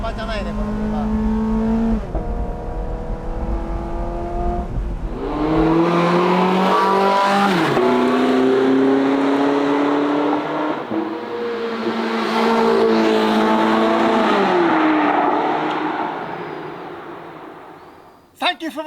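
Porsche 918 Spyder V8 driving at speed, a loud metallic wail climbing and dropping through several gear changes, with tire noise and someone talking over the engine before it cuts off near the end.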